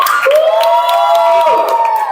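A seminar audience claps and cheers together, a loud close crowd roar with scattered hand claps and a sustained high whoop or voice riding over it.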